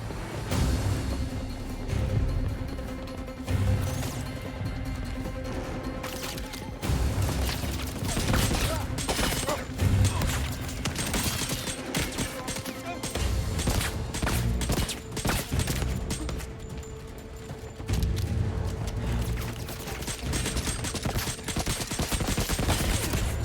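Fireworks in the video game 007 First Light crackle and burst in a dense, continuous volley of pops and booms, loud and sustained throughout with a steady game soundtrack underneath.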